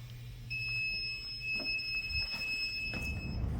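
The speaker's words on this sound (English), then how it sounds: "That is where the ultrasonic sensor will proceed to alarm the user." A steady high-pitched electronic beep from the ultrasonic obstacle sensor on a mechatronic cane sounds continuously and close, over a low background hum.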